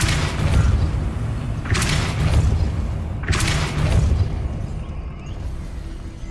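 Depulso force spell blasts in Hogwarts Legacy: three heavy booming bursts about a second and a half apart, each with a sharp crackling attack and a rumbling tail, over a continuous low drone.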